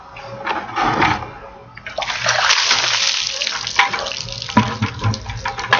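A bucket of ice water dumps over a person for an ALS ice bucket challenge, loud splashing bursts then pattering and dripping close by, with no talk.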